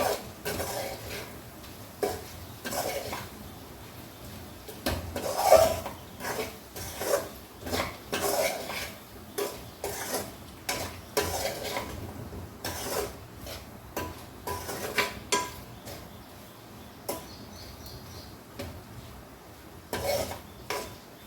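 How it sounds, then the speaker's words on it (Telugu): A spoon scrapes and stirs coriander powder into a sour, spicy tamarind curry of taro root in a metal pan, giving steady repeated strokes with soft clinks at close range and no talking. "ధనియా పౌడరు ఇది కలిపేసుకుందాం మంచిగా"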